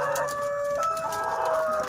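Laying hens clucking and calling close by during egg collection, a steady chorus with overlapping tonal cries and no talking.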